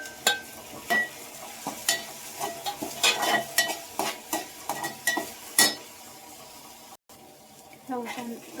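Tomatoes go into a sizzling pan spiced with red chilli, cumin and garam masala for palak paneer and are stirred, with repeated sharp spoon scrapes and clatter over a frying hiss, close by, then a brief pause.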